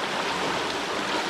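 River water rushes steadily past a forest riverbank, a dense, even wash of broadband flow filling the whole moment with no pauses or voices.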